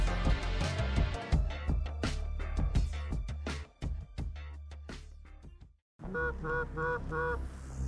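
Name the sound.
geese honking as they return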